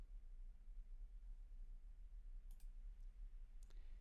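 A computer mouse clicks while working in 3ds Max, a couple of faint, quick clicks close by over a quiet room hiss with no talk.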